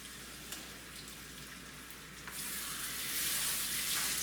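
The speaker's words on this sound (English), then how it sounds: "That's a nice sizzle." Chicken pieces laid skin side down in a hot pan sizzle softly with faint crackles, then the hiss swells louder and fuller as more pieces go in, with no talking.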